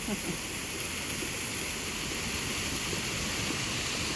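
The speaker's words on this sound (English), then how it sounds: "It's like a mini waterfall to me, this thing right here." Steady rushing of running water, like a small waterfall, a constant hiss without pause and no voices.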